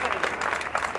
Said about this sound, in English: Your applause says it all.